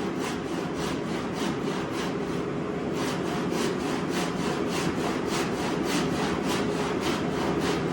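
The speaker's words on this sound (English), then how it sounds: "So I guess I'm just taking a handsaw and just trying to go through here." A handsaw rasps steadily through keelson lumber for a wooden Somes Sound 12 1/2 sailboat build, with regular back-and-forth strokes that stay close, loud and continuous throughout, and no talking.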